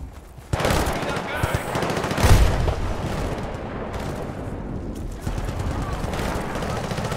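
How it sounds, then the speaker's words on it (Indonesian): Gunfire in Battlefield Bad Company 2 on a Himalayan mountain Cold War mission, a dense run of loud shots with a booming hit near the middle, continuing steadily under a voice speaking. "Kok tembaknya semi auto gini ya?"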